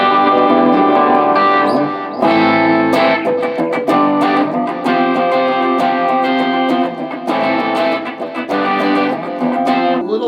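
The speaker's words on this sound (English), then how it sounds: "A little bit overdriving my amp." PRS electric guitar with an HFS pickup played through a slightly overdriven amp, sustained distorted chords ringing out loud and dense, with strummed attacks and brief gaps between phrases.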